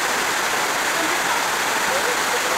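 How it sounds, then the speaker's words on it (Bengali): Fruit Waterfall at Cherrapunji (Sohra), Meghalaya, pours in a constant, dense rushing hiss of falling water, steady and fairly close throughout. "এটা হলো ফ্রুট ওয়াটারফলস।"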